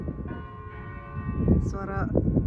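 Church bells ring out in the distance outdoors, sustained tones sounding alongside footsteps and street ambience near a cemetery side entrance on a quiet road.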